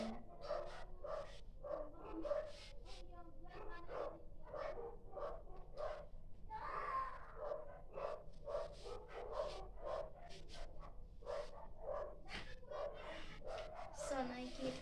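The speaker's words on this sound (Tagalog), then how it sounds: "Background music ko yung tahol ng mga fur babies ng kapitbahay ko para hindi ako makopyright" Neighbours' dogs bark again and again at a steady pace through the whole stretch, moderately loud behind a constant background, with no clear pauses.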